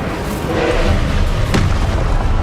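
Incendio fire spell cast in Hogwarts Legacy, a loud booming burst over a steady rumbling game background, with one sharp blast partway through.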